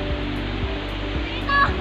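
A river flows with a steady broadband rush of water, close and continuous, with faint animal-like squeaks near the end.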